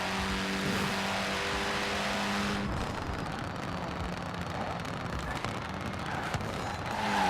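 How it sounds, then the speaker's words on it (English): Single-turbo Honda Civic Type R engine in Forza Horizon 4 droning loudly under acceleration, a continuous buzzing tone that drops sharply partway through, then rebuilds with rough, gritty engine noise. "To me, it sounds like it's a single turbo right now."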